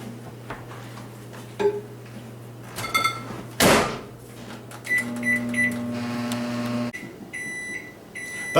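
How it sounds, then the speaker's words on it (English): A microwave oven running while it bakes an almond flour mug bread, with a steady low hum, a few clicks and knocks, and electronic beeps near the end. "now it's time to bake it in the microwave oven for 90 seconds"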